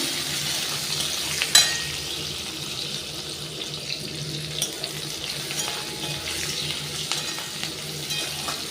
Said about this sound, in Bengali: লাল লাল করে কত সুন্দর পেঁয়াজগুলো ভেজে দিচ্ছি